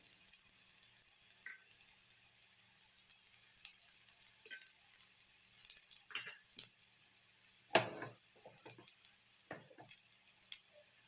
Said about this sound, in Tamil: கொஞ்சம் வேக விட்டுடலாம் நல்லா முறுமுறு முறமுறான்னு